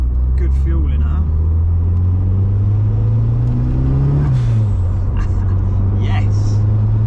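Ford Escort RS Turbo engine, fully warm, driving and accelerating, a steady loud drone that climbs in pitch and drops off at a gear change, heard from inside the car while someone talks over it.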